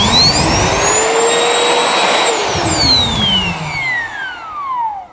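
A Bosch GAS 18V-12 MC cordless vacuum cleaner runs loudly and close by, with a strong whirring whine that holds steady and then slowly drops in pitch as the motor winds down.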